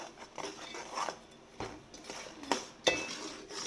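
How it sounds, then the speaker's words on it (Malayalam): A utensil stirs melting jaggery syrup in a pan, scraping and clinking against the metal in soft, irregular strokes with a few sharper taps, close but quiet. "അടി പിടിക്കാതിരിക്കാൻ വേണ്ടി നന്നായിട്ട് ഇളക്കി കൊടുക്കണം"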